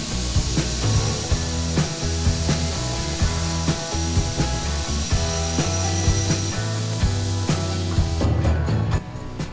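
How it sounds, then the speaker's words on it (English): An axe head's bevel is ground on a sandpaper machine in a blacksmith's forge: a steady abrasive rasp over a constant motor drone, with repeated strokes that pulse through the sound and ease off near the end. "repeatedly running the front of the axe head, one side at a time, down the sandpaper"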